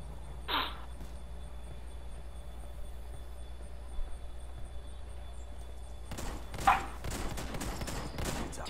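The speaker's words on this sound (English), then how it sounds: "Taking fire." Gunfire in the video game Ghost Recon Wildlands, with a faint early shot and then a cluster of rapid distant-sounding shots late in the clip, over a constant low ambient rumble.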